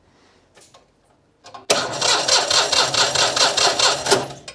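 A Citroën 2CV's engine cranks with the key removed, a loud rhythmic churning that fails to catch, preceded by faint clicks and a brief spoken word.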